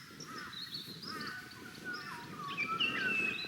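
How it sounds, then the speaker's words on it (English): A crow caws a few times over a steady outdoor background in the bush, the calls fairly distinct and moderately near, with no talking. "There's another crow."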